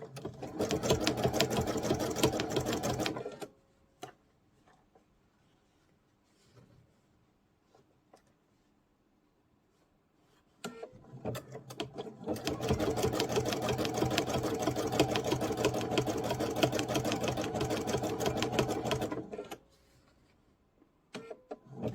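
A sewing machine zigzag-stitches around a fabric Bali bowl in two long, loud, steady runs of rapid mechanical whirring, separated by a quieter pause with faint handling noise.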